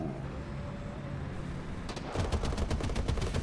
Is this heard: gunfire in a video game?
yes